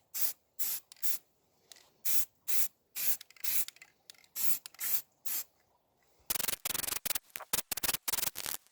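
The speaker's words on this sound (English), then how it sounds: "For the second coat, spray a medium primer coat." Repeated short bursts of aerosol primer spray on an alloy wheel, close and hissing, in quick passes with brief gaps, then a denser run of rapid spurts near the end.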